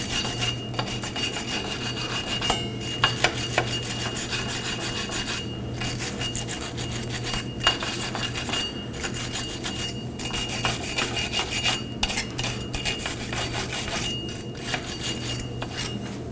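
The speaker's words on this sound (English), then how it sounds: "Now I'm going to clean the mating surface on the hub to the drum with a wire brush." A wire brush scrubs the hub-to-drum mating surface on a 2014-2019 Nissan Sentra rear drum brake, giving steady raspy metallic strokes in a continuous rhythm with brief pauses.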